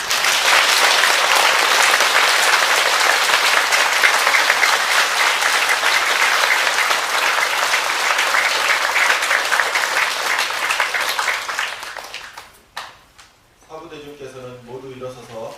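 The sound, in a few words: applause for Khamtrul Rinpoche at a ceremony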